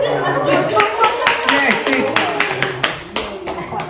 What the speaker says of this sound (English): Again, you can clap